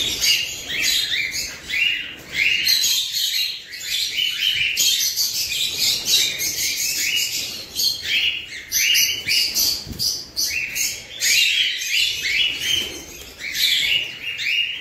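A caged bird in an aviary chirps and tweets rapidly and brightly, almost nonstop, close and loud, with occasional rustling and fluttering of its wings underneath.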